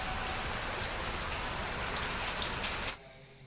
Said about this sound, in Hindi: गोंदिया में हो रही है जोरदार बारिश।